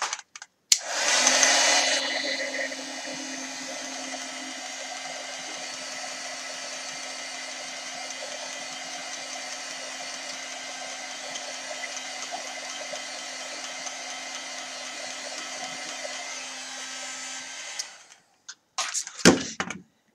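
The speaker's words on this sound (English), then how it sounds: "Let me dry it off first." A heat dryer blows steadily for about seventeen seconds, drying a handmade craft tag, close and loud with a constant whir, then clicks off, followed by a few brief handling sounds.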